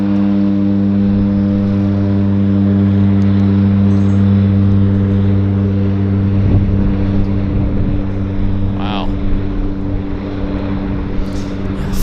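A seaplane taking off from Vancouver's downtown harbour, its engine a loud, steady droning hum that swells into a rougher roar partway through as it gathers speed across the water.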